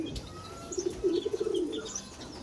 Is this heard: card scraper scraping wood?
no